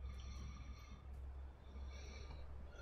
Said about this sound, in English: we have a train now coming down going, hey, I've got my stop now